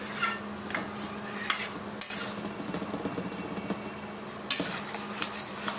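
A utensil scrapes and clinks against a cooking pan as a mix of shrimp, dried fish, garlic, lentils and beans is stirred, with irregular metallic scrapes and taps up close and a brief pause midway.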